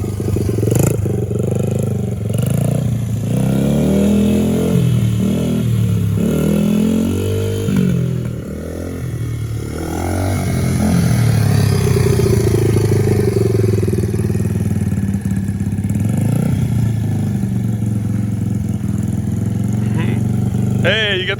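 A 2005 Honda CRF80 dirt bike engine drones and revs close by during riding, rising and falling in pitch with throttle changes, while people talk over the engine noise.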